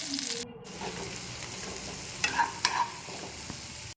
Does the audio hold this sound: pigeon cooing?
no